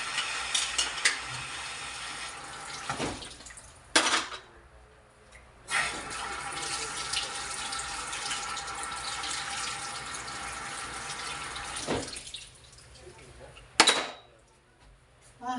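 Running water splashes at a sink with clinks and clatters of dishes, broken by a few short pauses and sharp knocks.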